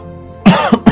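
A person coughs three times in quick succession after a quiet moment, loud and close, in a talk about coughs spreading droplets that carry COVID-19.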